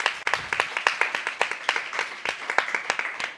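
Conference audience at a digital summit applauding, with a fairly thin, rhythmic clapping that stays even and moderately loud for a few seconds, and no speech.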